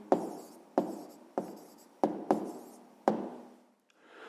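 Pen strokes while writing answers on paper, six distinct sharp taps and scratches in an uneven rhythm, each fading quickly, close and fairly quiet with no talking.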